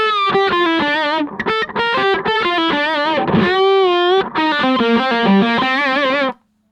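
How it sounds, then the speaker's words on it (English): An electric guitar through a Killer Queen amp and cab tone from the NAM A2 starter pack plays a short, loud, distorted melodic phrase of sustained notes and quick runs that ends abruptly. "let's find the Killer Queen and let's hear what it sounds like"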